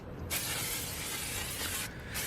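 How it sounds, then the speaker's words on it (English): Brake cleaner sprays in a loud, continuous hiss onto a brake pad during a front brake job on a 1999-2007 Toyota Yaris, with a brief pause before spraying resumes. "Just spray generously with the regular brake cleaner."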